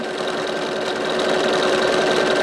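An embroidery machine stitches heart-shaped fabric down onto a lumbar pillow, giving a steady, even mechanical whirring hum that runs without a break, close and fairly loud.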